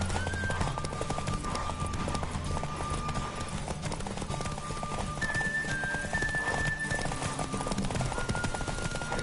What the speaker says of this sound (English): Don't spare the horse.